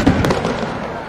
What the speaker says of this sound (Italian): E quindi questi fuochi d'artificio fanno un bel effetto.